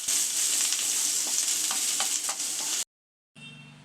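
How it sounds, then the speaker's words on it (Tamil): Curry leaves sautéing in a hot pan for coconut rice, a steady loud sizzle with light stirring scrapes that cuts off abruptly, followed by a brief quieter burst of frying. "ஒரு கொத்து கருவேப்பிலை சேர்த்துக்கலாம். இதையும் சேர்த்து நல்லா வதக்கிக்கலாம்."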